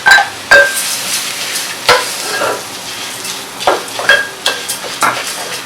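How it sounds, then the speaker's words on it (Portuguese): Rice with nettle tipped into a hot pan for a leek and nettle risotto, a steady sizzle under repeated scraping stirs and a few sharp clinks of the utensil against the pan, close and fairly loud with no talking. "E agora vamos despejar o arroz com a famosa ortiga."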